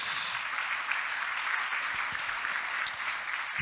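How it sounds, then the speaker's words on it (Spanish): A church congregation gives loud, sustained applause during a sermon, a dense, even wash of clapping that fills the whole stretch with no voices over it. "Un aplauso de gloria al Señor, por favor"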